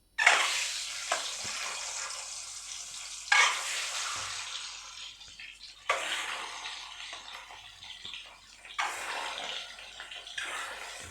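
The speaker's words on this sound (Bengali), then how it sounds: "এবার ডিমগুলো লাল করে ভেজে নিচ্ছি।" Duck eggs rubbed with salt and turmeric fry in hot mustard oil in a wok, with loud sizzling surges that recur every few seconds as they are turned, then ease to a steady crackle between stirs.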